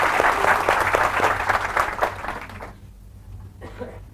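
Audience clapping during a motivational sales talk, a dense round of applause that fades out after a few seconds, leaving near silence with a faint voice.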